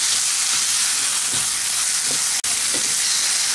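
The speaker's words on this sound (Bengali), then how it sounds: "আলুটাও একটু কষিয়ে নিচ্ছি 1 মিনিট মতো।" Potatoes that were fried earlier sauté in a pan for a Bengali chhana (paneer) curry, giving a loud, steady, close sizzle that cuts out for a split second midway.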